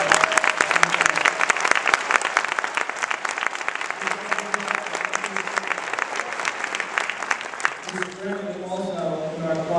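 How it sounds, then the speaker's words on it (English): Graduation ceremony crowd at a middle school applauds steadily, a broad wash of many hands clapping for several seconds, with voices and talk emerging as the clapping dies down near the end. "If you could stand and give them a round of applause for the great job they did."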